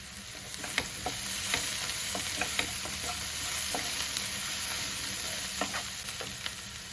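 Sweetcorn filling for a sandwich fries and gets stirred in a pan, giving a steady sizzle with repeated scraping clicks of the spoon at an uneven rhythm, close up, with no talking.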